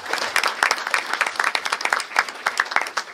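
An audience at a school district meeting applauds the girls bowling team, with dense, steady clapping from a room full of people for a few seconds.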